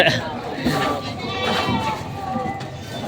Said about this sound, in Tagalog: Ayan, mga pangkatay na kambing na.